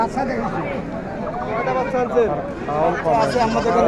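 Several goats bleat repeatedly amid a busy crowd at Dhelapir livestock market, with people chattering and talking nearby throughout.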